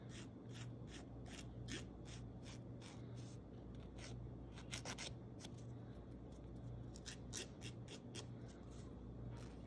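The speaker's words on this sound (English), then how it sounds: "the filing off of the excess can be a little bit more time consuming" A nail file scrapes away the excess edge of a thick glitter nail gloss strip in quick, repeated close strokes, giving a soft, steady rasping rhythm at low volume with no talking.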